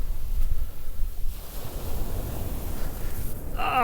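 Ocean waves washing onto a beach, a steady close rush of surf with wind noise buffeting the microphone, a brief sharper splash near the end.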